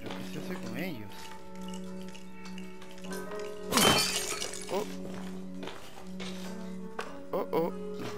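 A head shatters in Resident Evil 7, one sharp breaking crash with glassy debris standing out over low game music and ambient tones, while a voice talks around it.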